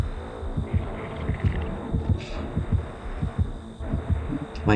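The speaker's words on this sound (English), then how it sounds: "Heartbeat." Heartbeat warning from the game Dead by Daylight, a loud steady double-thump pulse repeating fast under a low hum and sounding close and throbbing.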